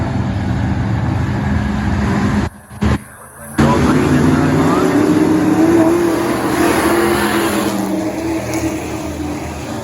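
Pro racing trucks roar around Crystal Motor Speedway in a second race, loud engines droning and rising steadily in pitch as they accelerate, with a short dropout early on before the pack noise resumes.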